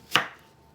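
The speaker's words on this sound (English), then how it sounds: "It can be quite rough with the chopping." A single knife chop through apple on a cutting board while making apple pudding, one crisp close thud with a quick decay.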